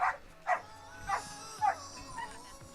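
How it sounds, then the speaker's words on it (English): Dogs bark in a park during an outdoor race, four or five loud barks spaced about half a second apart, close and clear, then a fainter yip. "you may be hearing some dogs barking behind me"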